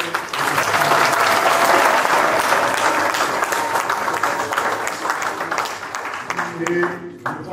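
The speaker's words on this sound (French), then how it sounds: "déjà applaudissons-le pour tout le travail qu'il fait." An audience at a parliamentary report-back event at a hotel in Muanda bursts into loud, sustained applause for a member of parliament, the clapping dense and close before tapering off near the end with voices mixed in.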